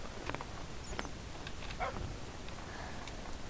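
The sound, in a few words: dogs barking in Minecraft video game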